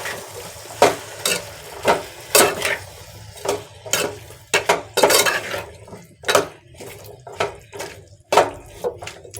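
Curry with salt and turmeric stirred in a metal pan: a series of sharp, irregular scraping clinks of a spoon against the pan, close and fairly loud, with no voices.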